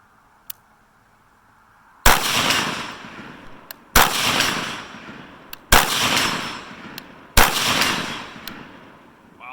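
Four loud rifle gunshots fired outdoors from an overgassed rifle fitted with a 1-4.5 power scope, each sharp crack followed by a decaying echo, spaced about two seconds apart, with no talking.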